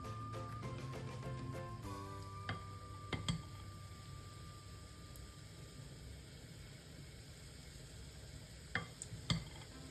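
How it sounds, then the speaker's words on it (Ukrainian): Sauerkraut fritters (fuchky) sizzling steadily in hot oil, a continuous close frying hiss with a few brief clinks of a spoon or pan, no talking. "Коли олія гарно розігрілась, починаємо смажити фукчі."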